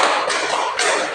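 Group of students clapping together in a counted pattern in a classroom, dense overlapping hand claps forming two loud bursts, close and without talk.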